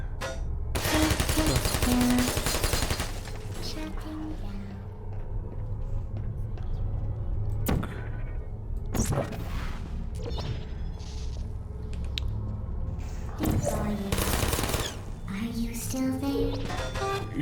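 Turret gunfire in the video game Portal: loud rapid bursts of automatic fire around the second, ninth and fourteenth seconds, over a steady game background hum, with a few whooshes and crashes between.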